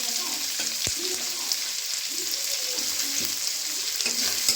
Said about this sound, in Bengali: এবার কুচিয়ে রাখা পেঁয়াজটাকেও দিয়ে দিলাম